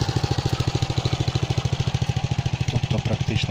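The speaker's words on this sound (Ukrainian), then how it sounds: "Мотоблок Мотор Січ." A Motor Sich walk-behind tractor engine runs close by with a loud, steady, rapid thumping beat that holds throughout.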